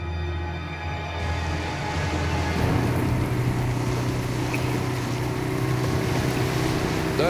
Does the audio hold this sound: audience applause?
no